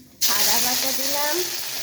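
Ginger paste hits hot oil already seasoned with asafoetida and nigella seeds, bursting into a sudden loud hiss that settles into a steady bubbling sizzle, close and without talk.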